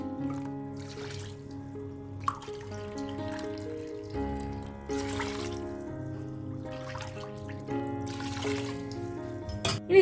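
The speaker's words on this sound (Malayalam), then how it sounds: "ഇനി ഇതിലേക്ക് ഒരു 3 കപ്പ് നല്ല ചൂടുള്ള വെള്ളം ഒഴിച്ചു കൊടുക്കാം" Three cups of hot water are poured into a meat curry for Thalassery erachi chor, giving soft splashing pours in a few bursts over steady background music.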